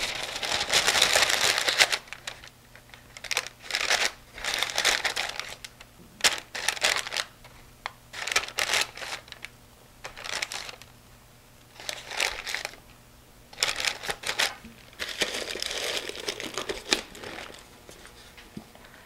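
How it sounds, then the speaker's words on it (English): Wax paper being laid over fudge in a tin, repeated crisp crinkling bursts in uneven rhythm with short pauses between, close and fairly loud, no talk. "What I'm going to do is put another piece of wax paper on top."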